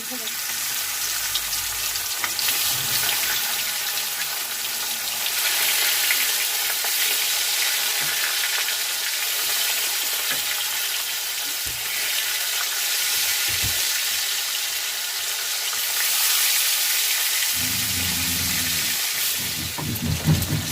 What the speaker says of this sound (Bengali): আমি এবার মাছটা তেলের মধ্যে দিয়ে দিয়েছি